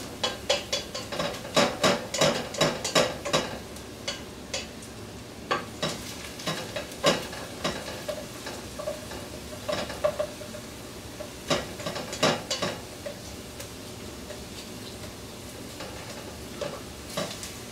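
Garlic sweats in a pan with a soft, steady sizzle, punctuated by sharp clacks and scrapes of a utensil stirring against the pan, busiest early on and then sparser, with no voices.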